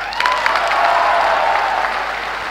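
An audience at a seminar session applauds loudly and steadily, dense clapping filling the whole moment with faint crowd murmur underneath.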